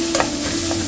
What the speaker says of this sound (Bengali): পেঁয়াজ একটু হালকা কড়া ভাজা হওয়ার